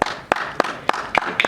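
Sparse claps at an awards ceremony come as a few separate, sharp smacks spaced about a third of a second apart, moderately close and fairly quiet, with no talk over them.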